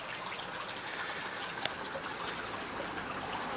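Shallow, ankle-deep creek water trickling over rocks where a fallen piece of wall forms a small dam, a steady, soft, continuous babble with no talking.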